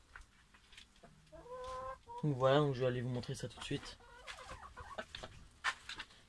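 Hens clucking in a backyard coop, several soft clucks and a louder squawking burst in the middle, heard under someone talking close by.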